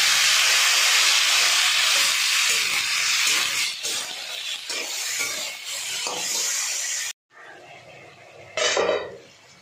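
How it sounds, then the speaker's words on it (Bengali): Ash gourd pieces drop into hot oil in a pan where potatoes were fried with bay leaf, giving a loud, steady sizzle for several seconds that cuts off abruptly, then a short renewed burst of sizzling near the end. "এবার চাল কুমড়োগুলো দিয়ে দেবো।"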